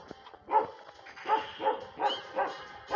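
A dog barks repeatedly at night, about five sharp barks at a steady, uneven rhythm, moderately loud and somewhat distant, with no talk over it.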